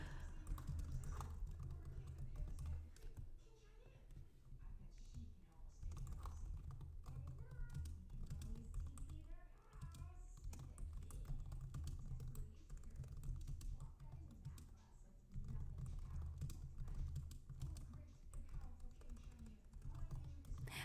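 Typing on a computer keyboard to log task data in a school setting, a steady run of soft close key taps continuing through most of the stretch with low background hum and brief pauses.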